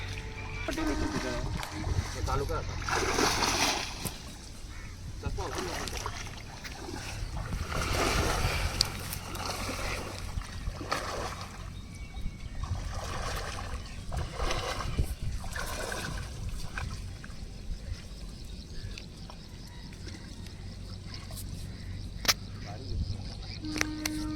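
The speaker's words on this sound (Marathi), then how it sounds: "आता मी पण उतरतो पाण्यामध्ये" A person wades through shallow saltwater at a creek while fishing, with repeated sloshing splashes and moving water close by, and a voice talks at times over it.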